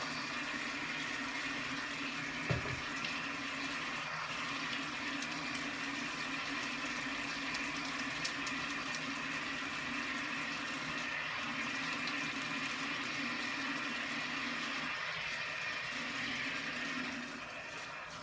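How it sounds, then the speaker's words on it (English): Steady running tap water flows continuously while hands are washed under it in a home kitchen during bread baking, a faint, even rushing with one small knock early on and no talk. "I'm going to wash them again right now to make sure they're clean"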